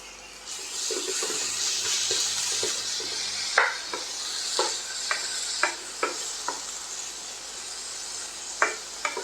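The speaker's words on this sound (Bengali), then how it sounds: "ভাজতে আরম্ভ করেছি মিডিয়াম ফ্লেমে" Tomato and eggplant fry in a pan over a medium flame, a steady close hiss with soft sizzling, broken by repeated clacks and scrapes of stirring in the second half.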